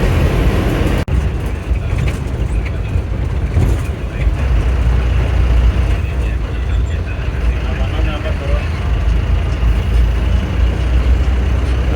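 Steady low rumble of a KSRTC bus engine moving through Bangalore traffic, constant road noise close by with no pauses.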